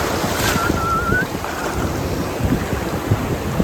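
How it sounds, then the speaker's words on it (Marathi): Rough sea waves crash and surge in stormy, windy weather during net fishing on the open sea, a continuous loud roar of surf with heavy wind buffeting the microphone. "लाटा बघा, लाटा"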